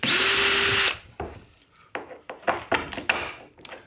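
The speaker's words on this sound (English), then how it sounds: "Now I'm going to change my drill bit and put on the bigger one." A power drill with a larger bit whirs loudly for under a second during a Boonedox landing gear install on a Radar 115, then stops, followed by rattling metallic clinks and handling knocks.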